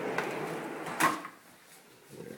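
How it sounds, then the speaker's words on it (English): A deep, long pantry drawer built into a converted kitchen cabinet slides out with a short, sharp thump near the middle, then the room goes quiet with faint background noise. "And all those drawers pull out."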